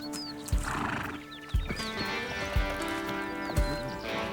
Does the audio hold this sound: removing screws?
no